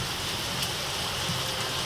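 A heavy downpour keeps up an even, unbroken wash of rain noise, close and full, with no voices.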